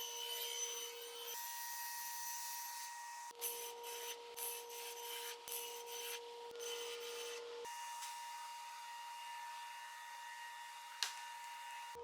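Plywood panels pass through a table saw for bookshelf parts, a continuous whining motor with a buzzing cut that changes pitch as each board is fed and released.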